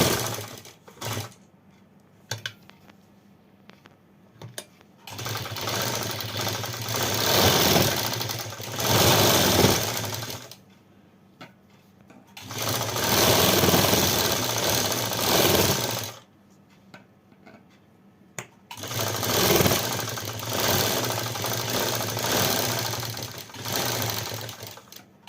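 A sewing machine stitching a collar neck on fabric with paper fusing runs in three long, steady whirring bursts, each several seconds, with quiet pauses and light handling clicks between them.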